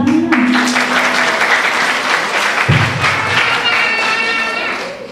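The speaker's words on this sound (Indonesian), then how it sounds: "Tepuk tangan." Audience applause at a regional family welfare (PKK) gathering in Depok, a dense, loud wash of clapping that fills the whole stretch, with a few voices and a brief vocal tone cutting through near the start and middle.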